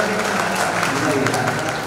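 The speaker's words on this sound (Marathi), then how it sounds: "एका डायलॉगमुळे सगळ्यांनी जोरदार टाळ्या वाजवायच्या." An audience clapping steadily, a dense, even patter of many hands at constant volume with a voice faintly mixed in underneath.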